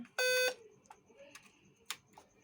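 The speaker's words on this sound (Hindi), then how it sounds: "8 बीप आ रहा है और डिस्प्ले नहीं आ रहा है" A Dell Vostro 3458 laptop with no display emits a loud, harmonic electronic beep, then a few fainter short tones over a quiet background.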